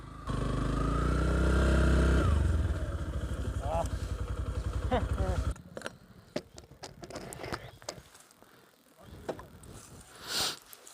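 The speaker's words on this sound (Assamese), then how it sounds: "এতিয়া মোৰ লগত আছে মোৰ নিউ FZS ভাৰ্চন 3খন" A Yamaha FZS version 3 motorcycle rides along a hill road in the Karbi hills, its engine loud and steady for several seconds before cutting to quieter wind and rustling.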